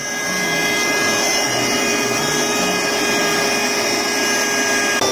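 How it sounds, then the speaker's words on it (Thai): A small cordless car vacuum cleaner blows air from its exhaust end with a steady, loud whirring motor hum and airy hiss, running continuously and close up with no talking. "เราสามารถใช้เจ้าเครื่องดูดฝุ่นเป็นที่เป่าลมได้นะ เพราะว่าอีกด้านหนึ่งมันจะสามารถเป่าลมได้นะครับ"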